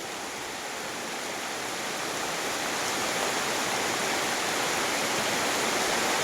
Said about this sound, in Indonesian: Hujan dia kuat juga lah.